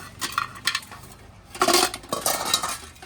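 Metal pressure cookers and cooking pots clatter and clink in irregular bursts as they are handled and sorted among household goods, close and fairly loud with no talk.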